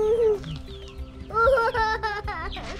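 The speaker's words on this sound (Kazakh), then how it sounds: "Олар үйректер ғой." Ducks at a village farmstead in Oyil, Aktobe region, give a series of loud, nasal, harmonic calls close by, clustered in quick bursts after a short quieter stretch.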